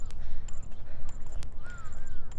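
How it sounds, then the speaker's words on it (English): Crows caw in a Japanese garden, giving a few short harsh calls over a busy rumbling background, alongside sharp clicks and brief higher bird notes. "A lot of crows here today."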